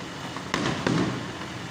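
Two sharp booms about a third of a second apart cut through a steady noisy background, each leaving a brief rumbling tail, moderately distant.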